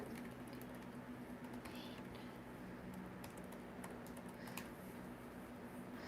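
Typing on a computer keyboard in a painting studio, faint rapid clicking keystrokes in irregular bursts over a low steady hum.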